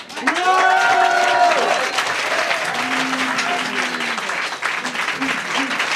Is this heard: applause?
yes